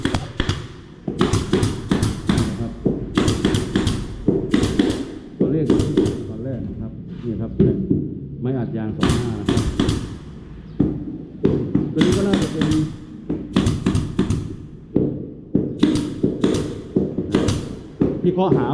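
A staple gun drives staples into the square timber frame of a simple 40 cm wide wooden cabinet, firing in sharp, loud clusters of rapid shots with short pauses between bursts while someone talks.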